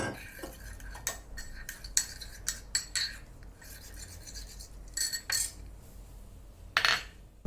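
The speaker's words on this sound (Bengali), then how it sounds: "আমি একটুখানি জল দিয়ে গুলে রাখছি" A metal spoon clinks and scrapes against a bowl, stirring cumin, coriander, turmeric and chili powders into a little water for a spicy crab curry, in short irregular taps and rubs, close and fairly quiet.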